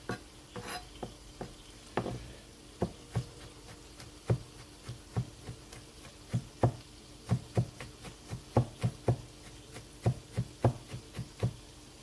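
Knife mincing food on a cutting board for a pasta dish with tomato sauce and beef meatballs, a steady series of close, crisp chops speeding up into a quicker rhythm, with no talking.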